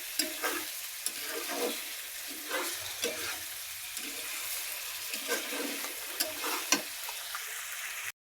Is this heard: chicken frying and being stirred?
yes